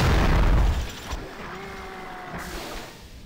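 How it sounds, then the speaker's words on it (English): A loud explosion in the video game American McGee's Alice booms heavily at the start, then fades into a lower rumble with a faint tonal game sound lingering after it. "That was a very loud explosion."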